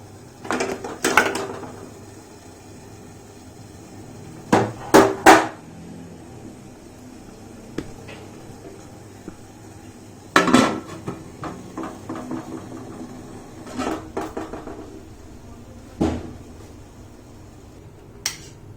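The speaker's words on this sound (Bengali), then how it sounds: "এবার মোমো মেকারে বসিয়ে দিচ্ছি।" Momos being set into a momo steamer in a home kitchen, with scattered metallic clinks and clatters of pots and steamer parts, a few sharp knocks spread out over a quiet background.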